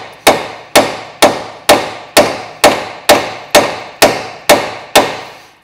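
Ten sharp, evenly spaced metal strikes about half a second apart, a hammer driving a 14 mm socket onto a rusty ball joint nut on a Ford Fiesta MK5, loud and close with no talk.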